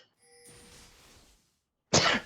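A single sharp, close sneeze bursts out after a stretch of quiet background hiss, loud and brief near the end.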